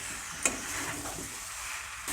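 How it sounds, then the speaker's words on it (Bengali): Potatoes and boiled jackfruit sautéing with spices over a medium gas flame, a continuous soft sizzle with a brief utensil clink, close and steady. "আলু আর এঁচোড়টা আরও 5 থেকে 6 মিনিটের মতো কষিয়ে নেব।"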